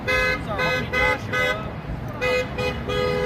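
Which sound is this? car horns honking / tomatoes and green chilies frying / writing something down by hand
car horns honking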